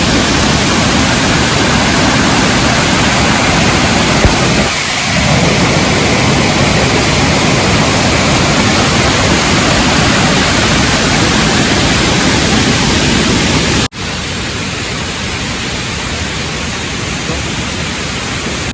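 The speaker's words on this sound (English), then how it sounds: "look how close it is to the waterfall" Steady roar of a waterfall seen from a campground on a road trip toward the Grand Canyon, a loud broadband rush filling the whole clip with a brief dip near the end.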